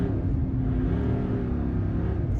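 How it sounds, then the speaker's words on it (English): A car engine idles and is given a few revs during a battery and alternator check, a steady close low rumble with a slight rise in pitch midway. "Let's turn the engine on. A few revs."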